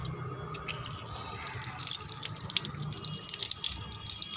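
Tap water runs steadily into a sink while something is scrubbed and rinsed with soap, a close continuous splashing and hissing with small drips and rubbing, and no talking.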